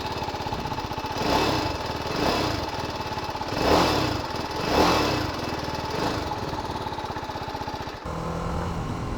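A TVS Apache RR310 motorcycle with a 312 cc engine running while riding, a steady buzzing drone that swells and fades in several rhythmic surges, loud and close with no voices.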